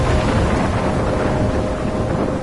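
A thunderstorm in the video game Life is Strange produces a heavy, continuous roar of rolling thunder mixed with driving rain and wind. It stays loud and steady throughout, with no voices.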